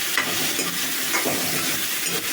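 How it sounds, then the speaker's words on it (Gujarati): Chopped ridge gourd with turmeric sizzles in a pan for a Gujarati turiya patra shak, a close, continuous frying hiss with a few soft stirring scrapes and no voices. "થોડીક વાર એને સસડવા દઈશું આપણે।"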